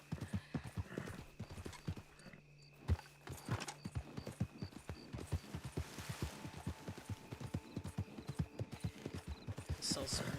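Horse hooves clip-clopping at a steady walking rhythm in the Red Dead Online game, fairly quiet and continuous, with a brief snort or neigh and some light speech.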